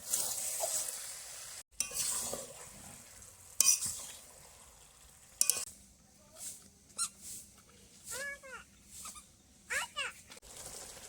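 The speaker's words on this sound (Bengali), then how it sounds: "এই নুন দিয়ে মাংসটাকে খুব ভালো করে কষিয়ে নেব যতক্ষণ না মাংস থেকে জল ছাড়ছে" Soft sizzling and spoon scraping as mutton cooks with salt in a pan for a Bengali mutton curry, faint intermittent stirring strokes with quiet gaps in between.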